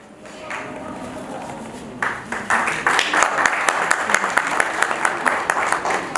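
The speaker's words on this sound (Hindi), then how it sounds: "जोरदार तालियां सभी जी का स्वागत।" Audience applause at an awards ceremony, starting as a soft murmur and building after two seconds into loud, steady clapping with sharp individual claps standing out, close to the microphone.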